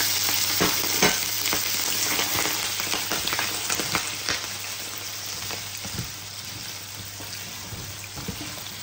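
Potatoes and carrots brown in a frying pan for chicken afritada, with a loud, steady hiss of oil and occasional stirring clicks and knocks close by, with no talk.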